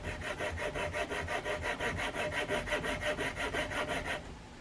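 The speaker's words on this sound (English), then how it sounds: "I'm going to start to cut the joint, at least partial way." A saw cuts a joint into a wooden ultralight trout swimbait body, giving steady rhythmic back-and-forth strokes, close and fairly loud, with no talking.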